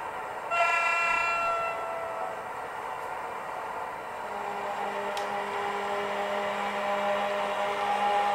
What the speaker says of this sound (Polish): Jedna trąbka, no to dajmy tą trąbkę.